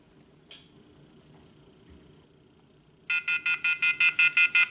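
An automotive diagnostic scan tool in demo mode beeps in a rapid run of about ten evenly spaced electronic tones, preceded by a brief click and faint handling noise.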